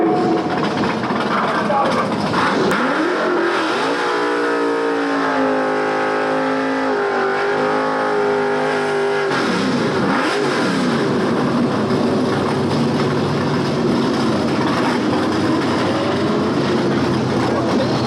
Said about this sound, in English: he makes his competition single run right here